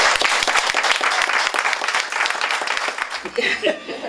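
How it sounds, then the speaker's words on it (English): Lively audience round of applause with a mix of close, sharp claps and a dense crowd wash, tapering toward the end as scattered laughter and murmuring voices rise. "Please give a round of applause for our"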